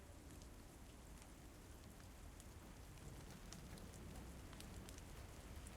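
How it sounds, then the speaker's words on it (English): Steady rain in The Walking Dead video game patters on a surface, a dense even hiss with scattered sharper drop ticks throughout, fairly quiet. "It's literally raining."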